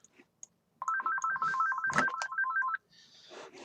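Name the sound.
phone ringtone, incoming call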